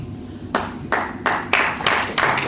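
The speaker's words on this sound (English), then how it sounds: "A huge round of applause, guys." Several hands clap at an awards gathering in short, uneven bursts, about six claps over a couple of seconds, moderately loud and close, with no talk over them.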